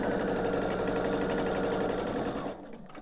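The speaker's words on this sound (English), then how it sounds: "continue to sew the rest of my pieces of sashing on" Sewing machine stitching navy and cream quilt sashing for a baby quilt, a steady close rapid mechanical whir running continuously before stopping abruptly near the end.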